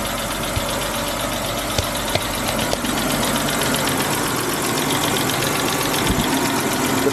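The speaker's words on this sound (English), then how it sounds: "The idle sounds pretty good." A BMW E60 car engine idles steadily at close range, a continuous even rumble with faint rhythmic ticking and a cooling fan running, no voices.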